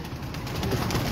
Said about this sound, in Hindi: ये जी उड़ने वाले उनके कबूतर हैं